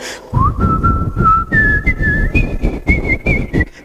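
A single person whistles a bright, wavering melody, rising in pitch partway through, close and clear with no talking.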